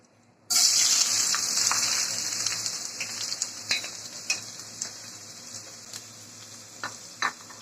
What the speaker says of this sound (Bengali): পাত্রে তেল গরম করে নিয়েছি দিয়ে দিচ্ছি পেঁয়াজ কুচি